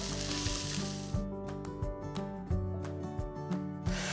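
Cubed corned beef hash sizzles in a pan as it gets a quick stir, a soft frying hiss with a few scraping strokes beneath steady background music.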